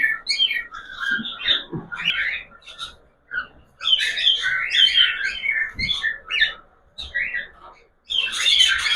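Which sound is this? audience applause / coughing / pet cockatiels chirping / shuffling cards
pet cockatiels chirping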